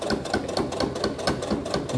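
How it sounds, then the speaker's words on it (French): A sewing machine topstitches around a small fabric earphone pouch, a close, steady rapid needle clatter with regular pulsing beats and no voices. "Et là, je fais tout mon tour en surpiqûre."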